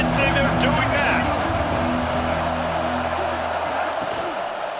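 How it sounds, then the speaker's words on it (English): A loud stadium crowd in EA Sports College Football 26 roars and cheers steadily throughout, a dense wash of massed voices with a low rumbling undertone. "They challenge this crowd to bring the energy, and I'd say they're doing that."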